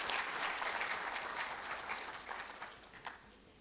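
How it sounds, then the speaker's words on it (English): Applause from a conference audience at an anniversary opening ceremony, a broad crowd of clapping hands that starts full and gradually thins and softens toward the end. "Let's acknowledge them with a round of applause."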